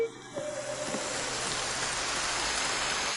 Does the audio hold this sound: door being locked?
no